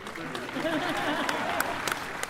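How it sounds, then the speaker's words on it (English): An audience at the D23 Expo Disney Broadway Originals show claps along, a dense wash of applause with scattered sharper claps under a voice that carries on over it. "Yeah, you can clap."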